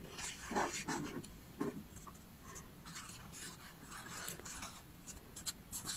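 Face mask powder and mineral water being stirred into a paste in a small bowl, giving soft, close scraping and rubbing strokes in an uneven rhythm, quiet overall.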